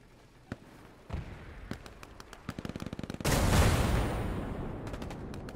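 Gunfire in Hell Let Loose aimed at a tank: scattered single shots, then a quick rattling run of reports, followed by a loud, sustained roaring blast that slowly fades, with a few more shots at the end.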